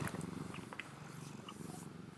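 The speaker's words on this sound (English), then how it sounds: "you're probably going to hear my cats purring" Several house cats purr close by in a steady, continuous low rumble that runs unbroken throughout, with no talking.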